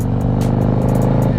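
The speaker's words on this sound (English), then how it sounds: "on the 24 Road Glide, and it's sounding so good" A 2024 Harley-Davidson Road Glide motorcycle engine running on a ride, a loud close steady low rumble with a rhythmic throbbing exhaust pulse and wind buffeting.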